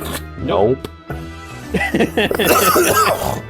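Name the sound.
person coughing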